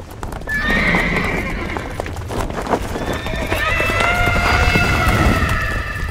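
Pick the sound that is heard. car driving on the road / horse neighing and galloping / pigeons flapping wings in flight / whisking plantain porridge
horse neighing and galloping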